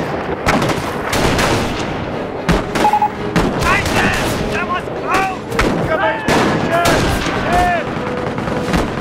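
Rapid bursts of gunfire and booming artillery from the World War II strategy game Company of Heroes, loud and dense, with sharp cracks, whistling shells and a voice calling out amid the battle.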